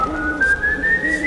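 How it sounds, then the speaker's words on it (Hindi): Eerie, sustained whistle of El Silbón in dense forest at night, a single thin tone slowly rising in pitch over low rumbling ambience. "गांव के किनारे बसे घने जंगलों में रात होते ही एक अजीब सी सीटी सुनाई देने लगी थी"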